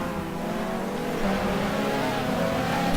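BMW GT2 race cars at speed around Yas Marina circuit, a steady loud engine roar with rising revs and a hint of tire squeal, no voices over it.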